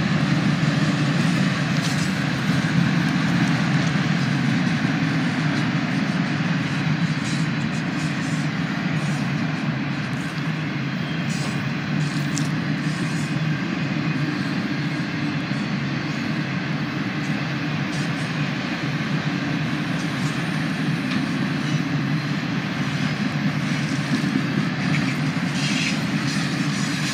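A CSX freight train rolls past in a long, steady rumble with rail clatter and wheel noise that stays loud and even throughout, with no voices.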